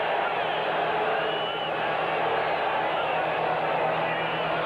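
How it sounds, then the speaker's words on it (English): NFL stadium crowd at a Buffalo Bills at Cincinnati Bengals game in 1986, a loud, steady roar of cheering and crowd noise that fills the whole stretch without a break. "Crowd coming alive."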